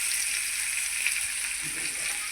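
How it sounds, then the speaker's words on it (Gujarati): Leafy greens (bhaji) hitting a hot pan, a soft continuous sizzle and hiss with a faint stirring scrape near the end, fairly quiet and without talk. "હવે એમાં નાખી દેવાની છે આ ભાજી."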